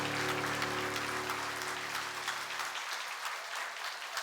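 Church congregation applauding at the close of a Reformation Sunday worship service, a steady dense wash of clapping from many hands, fairly loud and close, with a sustained organ or keyboard chord fading out beneath it partway through.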